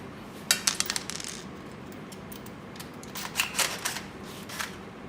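Self-tapping screws are driven into the base of a wooden restaurant table, making sharp metallic clicks and ticks in two clustered bursts over a quiet background.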